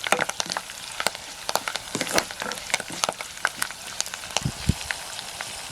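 Green chillies and curry leaves fry in hot oil with a close, busy crackle of sharp pops and spits over a constant sizzling hiss.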